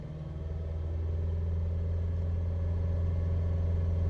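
Saturn Vue engine idling steadily at a raised speed around 2,500 RPM, a constant close-up hum with a strong low drone and no change in pitch, alone without talk.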